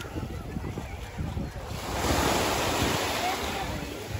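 Sea waves surging onto the beach at Urbiztondo, San Juan, La Union, a steady wash of surf with a swell building louder midway, heavy wind rumble on the microphone.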